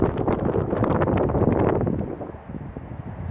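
Strong gusts buffet the microphone outdoors on a metal-detecting hunt at a 1950s school site, a loud, continuous low rumble that swells and dips briefly near the two-and-a-half-second mark before surging again.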